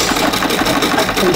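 A treadle-pedalled sewing machine stitches in a steady, close, mechanical whir with a regular rhythmic pulse, heard alone without talk.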